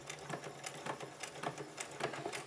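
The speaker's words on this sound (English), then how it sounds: "I will put in a couple back stitches." A home sewing machine runs short bursts of back stitches on a homemade protective fabric mask, a quiet rapid mechanical whirring and clatter in repeated pulses, no voices.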